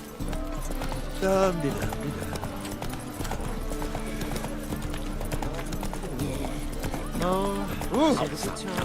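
Horse hooves clip-clopping steadily at moderate distance, with a horse whinnying twice amid a game scene; people talk over the hoofbeats.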